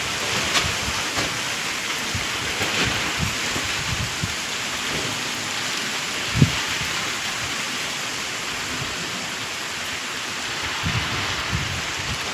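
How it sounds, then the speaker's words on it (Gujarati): Wind and rain setting in, a steady broadband wash of rainfall with gusty noise throughout, one sharp knock partway, no voices. "તો પવન વરસાદ હંગાથી ચાલુ થયો છે"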